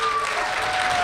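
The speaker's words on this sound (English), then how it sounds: "let's hear applause from those of you from that state" Audience applause at a foundation leader-of-the-year award event, a dense steady patter of clapping filling the whole moment at moderate level, with a faint tone running underneath.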